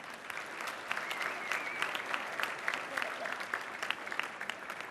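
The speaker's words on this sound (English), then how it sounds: "So please give them a big round of applause." A crowd applauds at a bar association installation ceremony, steady dense clapping with scattered sharper claps, moderately distant and continuous throughout with no speech.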